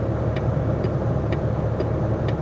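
A truck engine idles at raised speed, a low steady rumble with a faint periodic ticking above it, close and unbroken.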